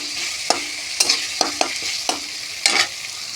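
Spice masala with chilli powder fries in oil and is stirred, a close bright sizzle punctuated by several crisp scraping strokes of the spoon at an uneven rhythm, with no voices.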